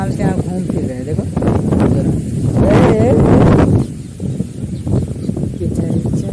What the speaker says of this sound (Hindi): ये देखो गाइस तेज हवा चल रही है